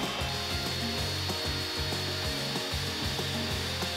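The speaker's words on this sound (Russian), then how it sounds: "Сначала выставляем миксер на высокую скорость." An electric mixer runs at high speed beating eggs with sugar and a pinch of salt for a cake, giving a steady, loud, continuous whir with a pulsing rhythmic undertone and no voices.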